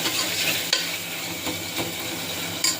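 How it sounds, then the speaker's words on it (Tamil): Prawns tossed into a hot frying pan and stirred, a steady close sizzle with a few sharp clinks and scrapes of the spoon against the pan. "இப்போ வந்து எறா போட போகிறேன்."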